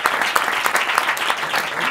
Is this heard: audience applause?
yes